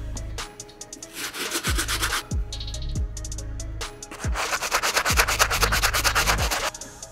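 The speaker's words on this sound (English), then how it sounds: "I hit it with the stiff bristle brush pretty hard." A stiff bristle brush scrubs hard across the sole of a 20-year-old Jordan 15 Columbia Blue sneaker during a restoration, giving loud, close, rapid rasping strokes in two bursts separated by a quieter pause.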